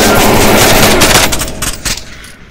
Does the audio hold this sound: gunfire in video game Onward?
yes